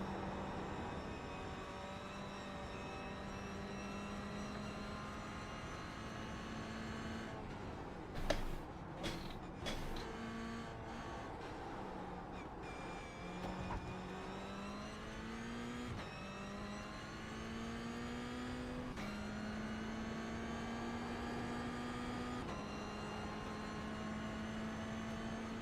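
A race car engine in the iRacing game on an oval circuit holds a sustained drone, with a burst of rapid downshifts while braking near the middle before the pitch climbs steadily again.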